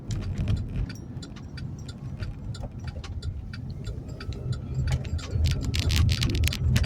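A car drives along a rural road in Brazil toward Pariquera-Açu, its engine a low steady rumble from inside the cabin with a brisk, regular ticking clicking over it.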